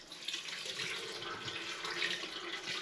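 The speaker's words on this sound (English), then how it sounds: "I'm literally going to pour water now over the top of the fruit" Water poured over gooseberries, blackcurrants and other summer garden fruit in a home-brew fruit wine vessel, a steady broad splashing rush running unbroken for about three seconds, close and alone.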